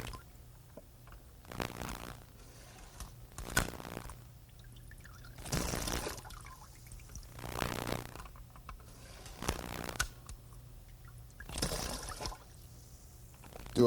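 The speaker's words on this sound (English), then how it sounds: "Press the trigger to put the water back in the sink." A HomeRight paint sprayer expels water into a sink in repeated bursts, several rushing, splashing sprays of a second or two each separated by quiet pauses, close by, with no talk.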